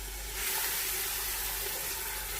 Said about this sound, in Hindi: पानी का छिड़काव करेंगे, थोड़ा सा पानी डालेंगे इसमें।